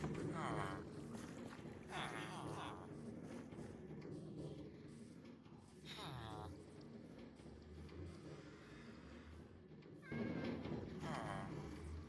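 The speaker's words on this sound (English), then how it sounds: "Cats are starting to spawn." Minecraft cats meowing in-game, several drawn-out mews spread across the stretch amid steady background game sound, with a person talking now and then.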